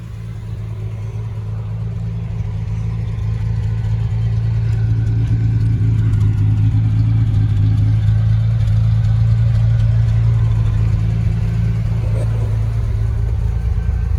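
1975 Triumph TR6 engine running on the road, a low steady rumble with a strong deep drone that swells slightly as it pulls, heard close from inside the car with no talking.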